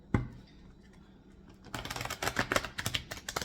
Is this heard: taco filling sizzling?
no